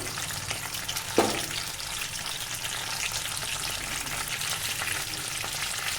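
Mustard seeds and cumin crackle and splutter in hot oil, a dense continuous sizzle with one sharper pop near the start, close and steady throughout.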